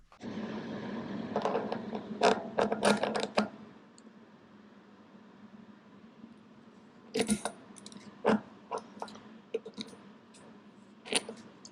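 Metal clicks and light scraping from a greased threaded part being unscrewed on a Bafang G62 e-bike hub motor, coming in two bursts of close, sharp ticks with quiet gaps between.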